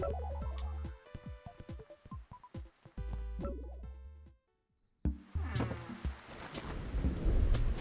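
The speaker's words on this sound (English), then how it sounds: "Wait, it's raining today." Rain and thunder in the video game Animal Crossing, a steady wash of rain with a low rumble rising near the end, layered under tinkly game music and sound effects.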